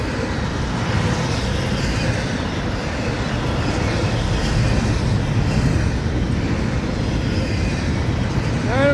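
FECR freight train passing over the CR 206 railroad crossing in St. Augustine, Florida, a loud, close, continuous rumble and rolling clatter that holds steady without a break.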